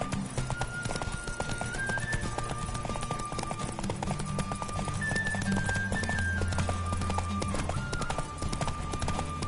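Steady clip-clop of horse hooves at a gallop in The Witcher video game, close and continuous, with occasional snorts and a tonal music line running underneath.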